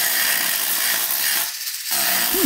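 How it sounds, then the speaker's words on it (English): A small cutting wheel spun by a geared-up LEGO motor grinds through a knitting needle, making a loud, continuous high whine and rasp up close that drops out briefly before resuming, ending with a short squeaky sweep. "Let's cut a knitting needle down to size using one of these small cutting wheels."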